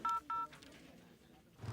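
Phone number being dialed on a telephone keypad: two short, clear DTMF tones in quick succession, followed by a faint quiet stretch.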